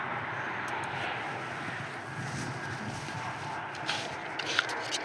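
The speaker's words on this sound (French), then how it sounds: "Les EasyJet au décollage, c'est parfait." EasyJet airliner taking off at Paris-Charles de Gaulle airport, heard as a steady distant jet roar with faint footsteps and small clicks nearby.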